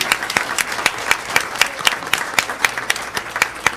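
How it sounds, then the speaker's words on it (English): An audience at a school board meeting claps for students, a brisk, steady patter of many hands with a few distinct sharp claps standing out, continuous throughout. "how about a round of applause for all these guys and the way they represented Alvin ISD"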